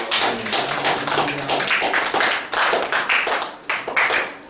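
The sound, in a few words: applause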